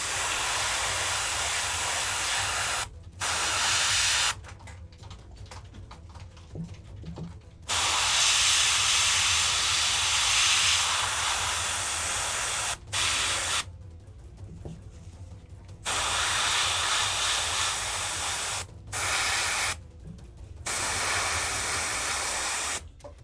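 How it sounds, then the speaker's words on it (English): Airbrush spraying paint in a downward angle onto the ruins base of a Kayvaan Shrike miniature: a steady close hiss in bursts of several seconds, broken by short silent pauses between passes. "now we're going to spray this in a downwards angle onto the ruins that he's standing on"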